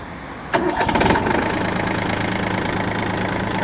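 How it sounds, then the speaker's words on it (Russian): The small engine of a Yanmar F180 Japanese mini tractor cranks and catches with a sharp burst, then settles into a steady, even idle that runs on nearby. "Запустился без каких-либо проблем. Работает ровно."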